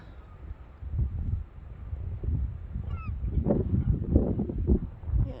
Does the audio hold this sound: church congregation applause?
no